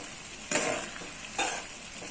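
A spoon stirs chicken masala Maggi noodles in a frying pan, giving two brief scraping strokes over a soft, continuous sizzle close to the pan with no talking.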